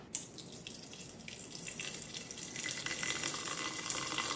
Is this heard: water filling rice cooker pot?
yes